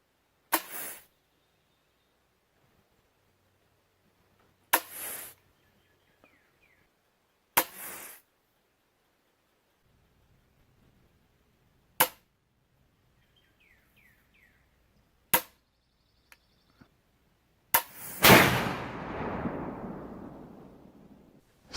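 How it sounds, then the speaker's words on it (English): An imported flintlock rifle flashes in the pan as its priming powder ignites: several sharp, isolated pops spaced seconds apart, then a louder burst with a longer hissing, fizzing tail, all outdoors with no talking. "So what you just observed is what we would call a flash in the pan 3 times in a row"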